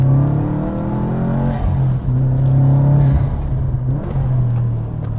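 A Subaru WRX with a Cobb Stage 2 tune revs hard while sliding around an open spot, a loud close engine drone rising and falling in pitch with a brief dip between pulls and some tire scrub underneath.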